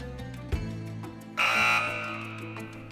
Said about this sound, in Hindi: मैं बजर्स एनेबल कर रहा हूँ।